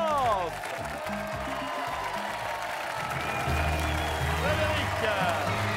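A TV studio audience applauds as the game-show host comes back on stage. The clapping is a moderate wash that runs throughout, mixed with music and a voice.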